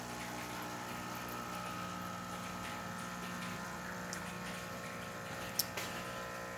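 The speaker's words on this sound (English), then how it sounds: "The pump is hitting a great level there." A La Spaziale Mini Vivaldi espresso machine pump hums steadily while pulling a shot after a full tune-up, a constant close vibrating drone with faint trickling and a small clink near the end.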